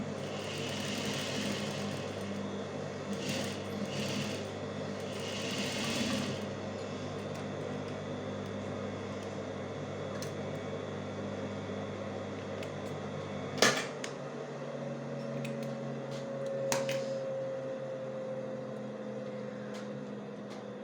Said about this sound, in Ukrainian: Прокладаємо строчку, закріплюючи шовшивання.